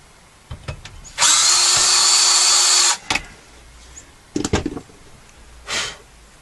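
A power drill bores a hole through a knob to fit a thicker bolt for a homemade camera mount. One loud, steady whir lasts about two seconds, followed by a few short clunks and taps.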